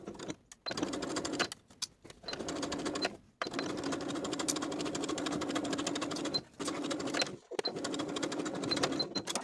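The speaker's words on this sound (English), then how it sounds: "Sew from where your zipper stitches ended backstitching to secure to the bottom of the skirt with a 1/2 inch seam allowance" Sewing machine stitching the center back seam of a pencil skirt, a steady close whirr in long runs broken by brief stops, with no talk.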